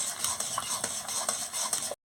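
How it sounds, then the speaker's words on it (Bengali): A utensil stirs a pot of boiled lentils with vegetables, making soft, repeated scraping and clinking strokes at a steady rhythm against a faint bubbling hiss, close and quiet, ending abruptly. "ভালো করে নাড়িয়ে দিচ্ছি।"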